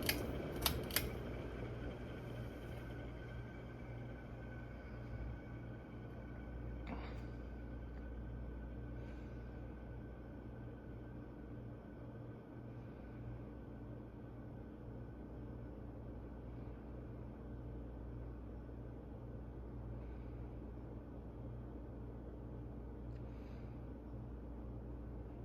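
A 36-inch J&P Manufacturing ceiling fan, a Kmart CEC Georgian relabel, winds down after being switched off, a steady low hum and whir with faint bearing noise continuing alone at an even level with a few small clicks.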